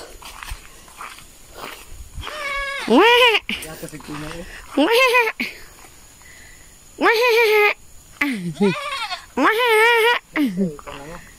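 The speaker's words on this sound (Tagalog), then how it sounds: "Kambing pala." A goat bleating loudly and close by, with several wavering cries in a row separated by short gaps, along with some rustling and footsteps.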